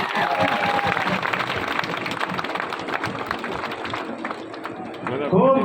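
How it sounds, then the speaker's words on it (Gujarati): Audience at a BJP public meeting clapping in a dense, sustained burst of applause with crowd noise, fading slightly toward the end. "બારોટજી માટે આપણે એક વખત ફરીથી તાળીઓ પાડીએ"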